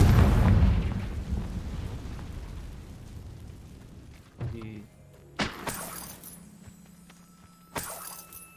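The Hogwarts Legacy Confringo fire spell erupts as a big rumbling explosion that fades over several seconds, then sharp separate blasts and cracks follow, with a voice speaking briefly in between.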